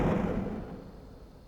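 A heavy impact sound effect pitched down an octave lands as one deep, booming hit at the start, then fades into a long, low rumbling decay, loud and close, with no voices.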